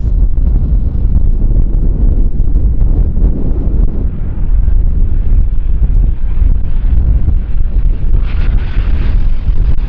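Heavy gusting wind buffets the microphone at Kagoshima Airport, a loud continuous low roar that fills the whole stretch with no letup.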